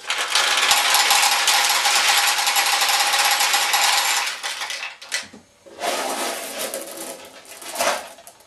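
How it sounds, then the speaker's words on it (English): Pachinko balls pour out of a Nishijin machine into the receiving tray, a loud rattling clatter of metal balls that runs steadily, breaks off, then resumes in shorter bursts. "the balls should roll from here into your receiving tray"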